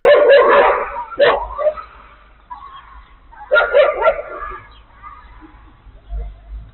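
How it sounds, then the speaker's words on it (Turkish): A pack of stray street dogs in Şanlıurfa, Turkey, bark and yip in short bursts outdoors, with pauses between volleys and a low rumble of background noise. "Vatandaşlar sokakta sürü halinde gezen köpeklerin saldırısıyla karşılaşıyor."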